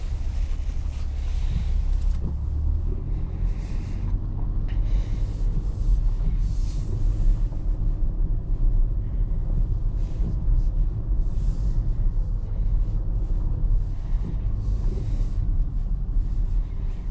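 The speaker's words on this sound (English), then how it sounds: "Let's go ahead and take this for a drive." Cabin sound of a 2022 Toyota Camry SE car on the move, a steady low engine and road rumble with wind and tire noise, continuous and even, with no talk.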